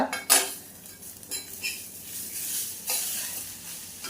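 Onion frying in oil in a pan while cooking stuffed brinjal, a soft sizzle broken by clinks and scrapes of a spoon against the pan, close and fairly quiet, no talking.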